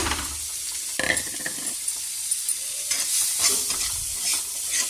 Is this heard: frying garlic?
yes